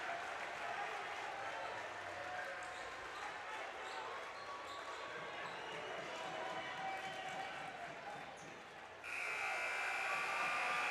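Crowd at a boys' 4A substate final basketball game roaring after a layup off a steal, a dense sustained cheer with a buzzer-like tone at the end.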